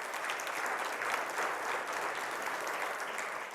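A church congregation applauds during a sermon with steady, dense clapping from many hands. The sound is even and continuous, a fairly distant wash with no voices on top.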